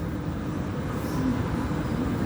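A train rumbling through a city train station, a steady, loud broadband roar with low hum that holds evenly throughout, no voices.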